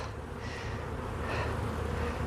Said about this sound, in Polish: Gdzieś tutaj kurde latały pszczoły